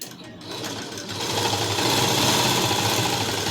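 A sewing machine stitches a body skirt in a tailoring class, its steady rapid mechanical whir running loud and close, picking up pace after the first second.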